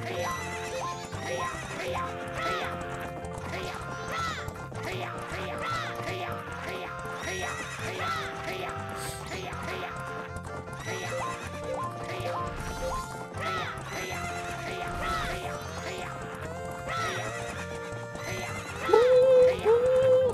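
Masked donkeys in the Majora's Mask video game neigh and clip-clop amid busy game music and effects, with repeated whinnies and hoof beats throughout and a voice talking over part of it.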